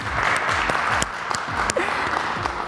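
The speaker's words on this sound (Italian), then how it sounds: "Vi meritate un applauso" Applause from a studio audience on an Italian television program, a short spell of clapping with distinct individual claps standing out near the mic, while a voice speaks briefly over it.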